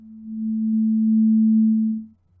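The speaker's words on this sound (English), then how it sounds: "change the volume of a sine wave." A steady pure sine tone generated in a Max patcher plays for about two seconds, swelling in gently, holding level and then cutting off cleanly into silence.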